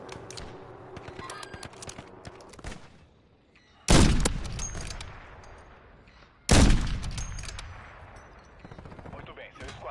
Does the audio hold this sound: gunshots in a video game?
yes